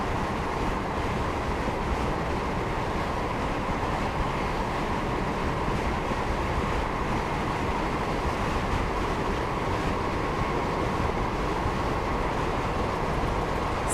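A Class 158 diesel train accelerates in Train Simulator on the Manchester Piccadilly to Sheffield line, a loud, unbroken roar of engine and rolling wheels.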